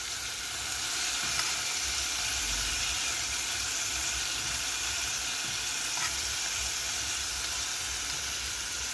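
Pomfret sizzles in hot oil in a pan while being sautéed for Goan pomfret curry, a steady, even hiss of frying that runs unbroken from start to finish.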